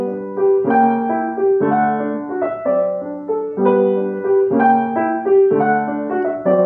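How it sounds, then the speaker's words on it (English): Piano phrase played legato with careful fingering and no sustain pedal, chords and melody notes sounding connected in a steady, moderately loud flowing rhythm, alone without talk. "But if I play it with good fingering without the pedal,"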